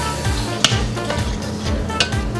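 Chopped onions sizzle in melted butter in a pan, a steady close frying hiss with a couple of sharp clinks of a utensil against the pan, no voices.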